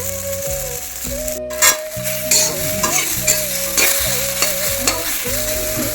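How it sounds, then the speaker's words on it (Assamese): Small fish frying in a pan for an elephant apple curry, a constant close sizzle broken by repeated scraping strokes of a spatula stirring and a few sharp clanks. "এতিয়া মই ভাজি থৈ দিয়া মাছ সৰু সৰুখিনি দি দিছোঁ"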